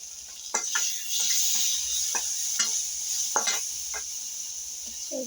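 Cumin seeds sizzle in hot oil in a home kitchen pan, a steady bright crackle with scattered sharp pops and light utensil taps over it, fairly close.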